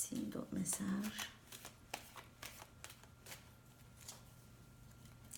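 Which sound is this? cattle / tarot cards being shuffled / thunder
tarot cards being shuffled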